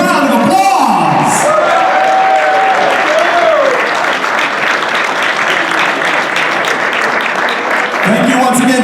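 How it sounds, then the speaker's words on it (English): Crowd at a mobile entertainment expo Hall of Fame induction giving a big round of applause, sustained clapping with scattered whoops and cheers, a voice talking over the start and end. "Give it all of our 2025 inductees in the Hall of Fame a huge round of applause."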